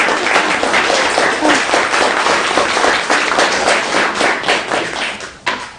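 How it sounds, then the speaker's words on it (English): A classroom audience claps for about six seconds, a dense steady patter of many hands at close range that thins slightly toward the end, with a sharp single clap near the finish. "You can clap."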